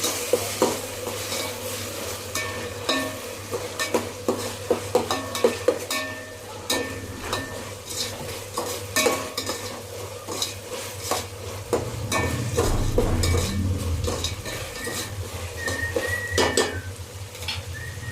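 A spoon stirs ginger paste into chicken biryani in a pot, giving repeated clinks and scrapes against the metal over a continuous low sizzle, with the stirring steady throughout and nobody talking.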